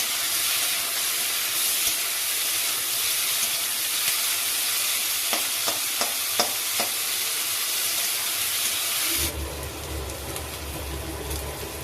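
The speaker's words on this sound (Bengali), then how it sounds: "এবার পেঁয়াজটাকে খুব ভালো করে ভেজে নেবো" Onions frying in a pan with a little salt, a continuous close sizzle and hiss with a few light utensil taps midway, the frying dropping lower near the end.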